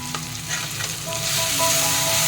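Mustard paste sautéing with salt and turmeric in a hot pan, a close continuous sizzle with light stirring scrapes, growing slightly louder toward the end.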